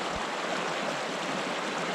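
River water rushes steadily around someone standing knee-deep in it on Exmoor, a dense continuous broadband flow, close and loud with no talk.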